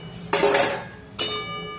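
A metal lid set onto a cooking pot of vegetables and broken wheat khichuri, giving two sharp clanking contacts with a brief ringing tail, close and clear with no talk.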